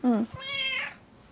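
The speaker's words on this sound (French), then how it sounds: "c'est le seul chat qui participe aux interviews et qui vous parle. Elle vous parle en chat." A cat gives two quick meows in a row, the first short and low, the second longer and rising, heard close and clear in a quiet room.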